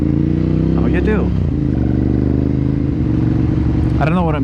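A Yamaha MT-09 motorcycle engine idles steadily and loudly throughout, with brief revs near the start and end, while someone talks over it.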